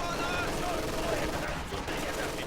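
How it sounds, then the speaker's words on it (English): A pair of MG42 machine guns rattle away in a strategy video game battle, a fairly faint, dense burst of rapid fire running beneath a commentator's voice. "Double MG's blasting away at their ZIS"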